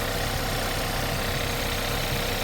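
An Audi A1 engine idling with a suspected earthing fault, a steady close mechanical hum with a slight rough knocking texture, running continuously with no voices.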